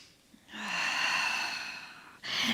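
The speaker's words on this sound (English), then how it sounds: "Inhale." A long, steady inhale during a stretching exercise, close and breathy, lasting nearly two seconds, followed by the start of another breath.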